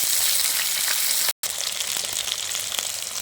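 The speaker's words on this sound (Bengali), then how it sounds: "আমি ডালের জন্য গাজর বিনস ফুলকপিটা ভেজে নিচ্ছি" Carrots, beans and cauliflower fry in a pan with a steady, loud hiss and crackle, briefly cutting out for a moment before the sizzling resumes.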